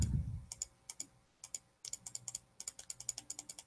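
Repeated backspace key presses on a computer keyboard erasing text, a run of sharp, close clicks in quick bursts with short pauses, quiet and without speech.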